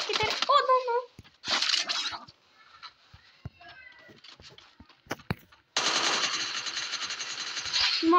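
Gunfire in the Free Fire mobile shooter game, rapid automatic bursts at the start and a long sustained burst near the end, separated by quieter sparse game sounds, with a voice talking in between.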